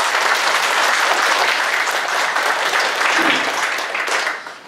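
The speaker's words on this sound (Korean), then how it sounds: "수고하시는 목사님 나오실 때 박수" A congregation at a Korean pastors' fellowship gathering applauds as a pastor comes forward, a loud, full burst of clapping that holds steady and then tapers off at the end.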